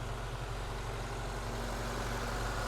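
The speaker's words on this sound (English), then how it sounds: "So we're warming up the engine. You can see it runs nice and quiet" A 1972 Moskvitch IZH 412 engine idles steadily while warming up after a hand-crank start, a low, even, fairly quiet rumble running continuously with no voices.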